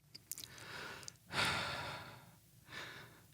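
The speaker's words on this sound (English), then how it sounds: "listen to my breathing." Slow, close breaths into a microphone: a soft exhale, a longer, louder breath, then another fainter one, with quiet room noise between.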